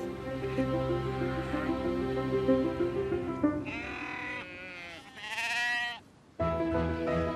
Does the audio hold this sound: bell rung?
no